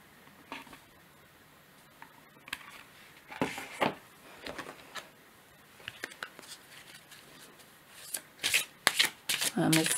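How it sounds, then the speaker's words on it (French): A deck of oracle cards is shuffled in several quick riffling bursts, close and crisp, separated by brief pauses, with some quiet talking nearby. "On va prendre une carte de l'oracle de la Terre sacrée."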